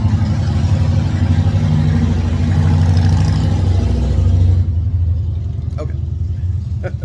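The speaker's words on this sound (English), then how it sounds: "my Harley neighbor's gonna drive by." A Harley-Davidson motorcycle drives past with a loud, deep rumbling engine that holds steady, then fades after a few seconds, leaving faint background sounds and light clicks.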